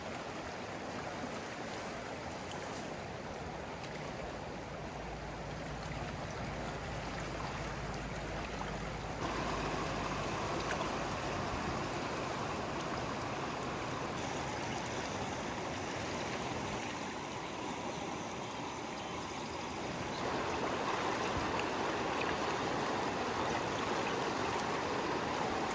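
The Deschutes River rushes past a campground in a continuous broadband roar, close and steady throughout with small shifts in intensity and no voices.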